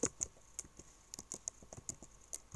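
Quick, light keystrokes clatter on a computer keyboard as code is typed, an irregular run of soft clicks at close range, fairly quiet, with no speech.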